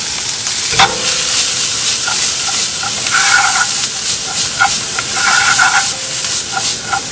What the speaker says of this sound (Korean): 이 기름에 아까 준비해둔 다진 마늘부터 볶아줄게요